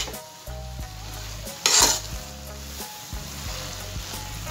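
Carrot halwa mixed with khoya being stirred in a pan over full heat: a steady close sizzle with repeated soft scraping strokes and one brief louder clatter partway through, no voices.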